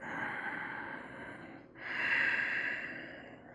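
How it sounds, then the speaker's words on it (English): Slow, deep breathing during a yoga class: a long exhale tapers off, then after a brief pause a full, airy inhale swells, close and soft with no talking. "5 breaths, deep breaths, breathing way down into that low back"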